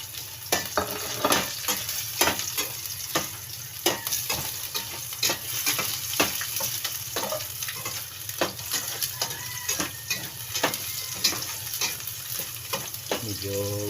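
Green chili goes into an exotic dish frying in a pan, with steady loud sizzling and repeated scraping stirs of a utensil against the pan, and no voices.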